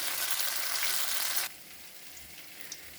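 Dhoka, fried Bengali lentil cakes, sizzle loudly in hot oil in a kadai for about a second and a half. The sound then drops suddenly to a faint background crackle.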